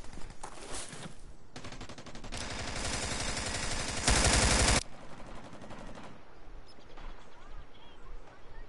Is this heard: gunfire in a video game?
yes